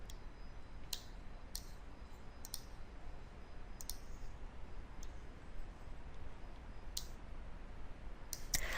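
Crisp mouse clicks on ERP accounting software buttons, eight or so sharp, isolated taps spaced irregularly over a soft steady hiss, close and fairly quiet.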